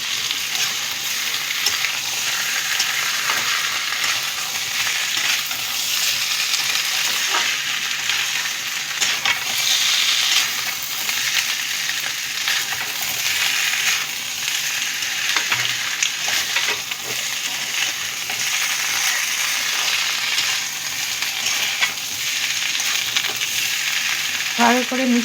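Ginger-cumin paste sizzles and fries steadily in a pan while being stirred, a constant close hiss with occasional scraping of the spoon.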